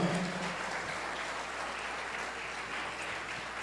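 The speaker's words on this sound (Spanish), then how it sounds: "Si las palmas son para Dios, désemosla fuerte al Señor." A church congregation claps for God during a service, a fairly quiet, even wash of many hands heard at a distance, continuous for a few seconds without talk.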